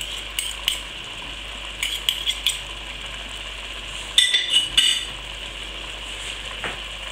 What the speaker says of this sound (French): Maintenant, je vais mélanger tout ça.